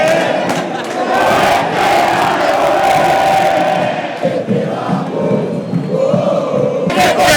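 A large stadium crowd at an Atlético Nacional football game roars and cheers after the other team scores, loud and sustained in a big open space, the noise rising and dipping, with sharp whistles near the end.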